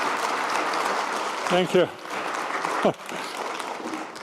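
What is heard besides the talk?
audience applause after a panel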